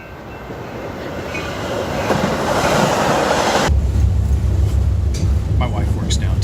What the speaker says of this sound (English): We ride the train together